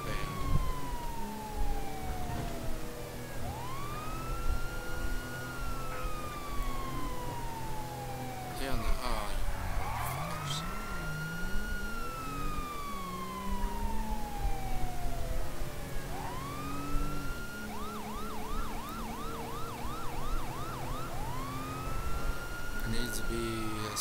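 Police car siren from a siren mod in GTA V, wailing and yelping in long sweeping cycles with a fast warble phase, loud and continuous over engine and traffic noise.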